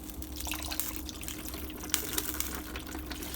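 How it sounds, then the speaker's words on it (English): Tap water runs into a cooking pot in a home kitchen, a steady close rush with small splashes and a few sharp clinks through the fill. "Add some more water."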